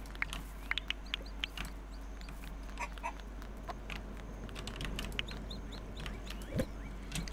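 Chickens in the farming game Dinkum cluck in scattered short bursts over a steady low ambient hum, moderately quiet and with no talk.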